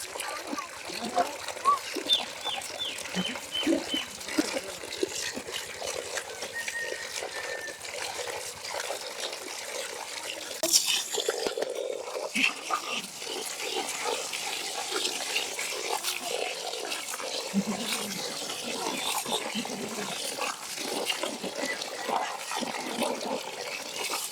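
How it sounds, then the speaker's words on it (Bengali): Rice being washed by hand in water, with splashing and sloshing in steady bursts up close, mixed with talking throughout. "চাউল ধোয়া শেষ, সুন্দর হয়ে চাউল ধোয়া"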